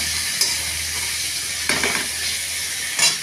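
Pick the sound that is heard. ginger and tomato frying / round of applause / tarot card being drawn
ginger and tomato frying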